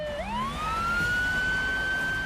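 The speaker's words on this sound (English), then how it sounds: "As police turn on their sirens, the Nissan accelerates." A police car siren sounds as officers pursue a white Nissan with no headlights through a residential neighbourhood. The wail starts low, sweeps sharply upward, then holds a loud, steady high tone, with no voices.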